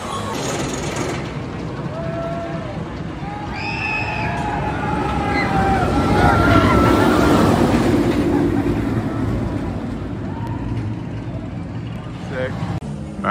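Steady loud rumble and rush of the Timbers wooden roller coaster at Kings Dominion, building to a roar mid-ride, with faint distant voices and a few whistling tones over the clatter.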